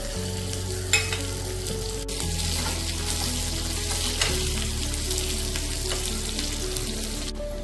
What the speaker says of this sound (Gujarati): હવે આજે આપણે કટ કરેલું છે એ બધું આપણે એડ કરી દઈશું તેલમાં